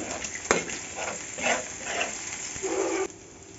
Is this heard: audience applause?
no